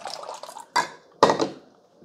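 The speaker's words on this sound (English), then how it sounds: "So let's pour a little bit into a cup and see how cold it is." Iced coffee from a Ninja 10-cup specialty coffee maker is poured into a cup in short close bursts: two quick splashy pours with liquid gurgle and a light clink against the cup, separated by brief pauses.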